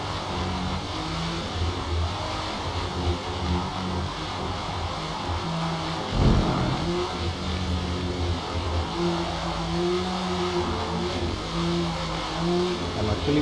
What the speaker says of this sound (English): I'm actually pumping the throttle and driving.